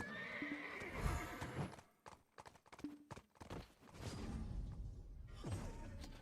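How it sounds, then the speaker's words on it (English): Horses in the video game Black Desert whinny repeatedly amid clip-clopping hooves and scattered thuds, fairly loud and close, with a few brief rustling whooshes in between. "look at all the horses out here"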